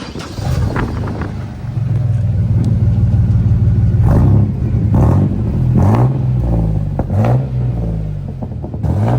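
A Chevrolet Blazer project truck's engine fires up and revs loudly nearby, a deep steady rumble with several rising revs in the latter half.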